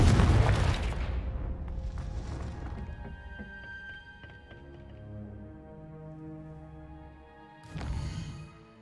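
The Confringo fire spell from Hogwarts Legacy goes off with a heavy booming blast at the start, then ringing magical tones and rumble fade out before a second burst hits near the end.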